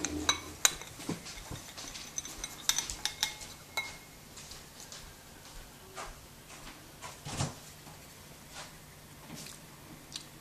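A Liftware stabilizing spoon gives off faint, irregular metallic clinks and small taps, scattered sparsely across a quiet room with low background hum.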